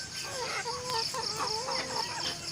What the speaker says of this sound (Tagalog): Papakain tayo ngayon ng ating mga manok.